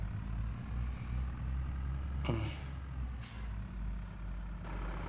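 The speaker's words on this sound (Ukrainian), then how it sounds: "Маленького трактора відвезу зараз." Tractor engine droning steadily in Farming Simulator 23, with a sharp hiss of air brakes midway and another burst of air release shortly after, no talk.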